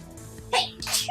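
A single sneeze in a casual chat, quick and fairly close, with a short inhaled lead-in followed by a sharp burst and a softer second puff.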